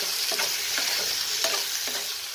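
Sugar is stirred into a cooking pot of food: a constant close sizzle with several rhythmic stirring strokes.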